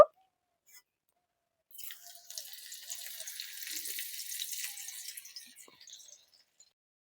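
Garlic for chili chicken hits a hot pan after a brief silence, and a bright, close hiss of frying swells for about four seconds before fading out.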